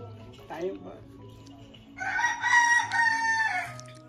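A rooster at a tribal hamlet gives a loud, drawn-out crow close by in the second half, after softer clucking and background chatter from other fowl and a faint voice.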